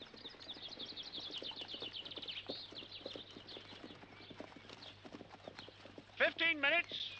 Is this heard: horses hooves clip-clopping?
yes